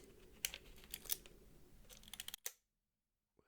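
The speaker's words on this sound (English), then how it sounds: "advance the film, you use this lever." A film camera's advance lever is wound with a run of small dry clicks and ratcheting ticks, close and quiet, ending in a sharper snap before near silence.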